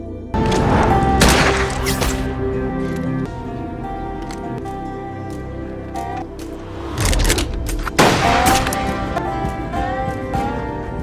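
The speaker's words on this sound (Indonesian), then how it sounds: "Jack pun menunjukkan skill menembaknya kepada Casey, lalu Casey juga tak mau kalah" Gunfire from a shooting-practice scene in an action film: loud, close shots and bursts ring out over a layered music-and-effects track, with a heavy cluster near the start and another later on.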